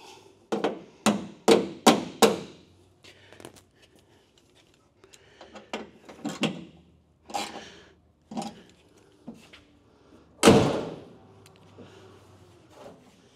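Door of a second-generation Camaro being adjusted and swung, with a worn weather seal: a run of sharp knocks and thumps, several quick impacts early on, scattered lighter clunks, then one loud slam near the end.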